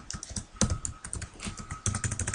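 Close, quick keystrokes on a computer keyboard while a command is typed to make a bootable USB drive for a netbook or PC, with bursts of sharp clicks and a few louder key presses.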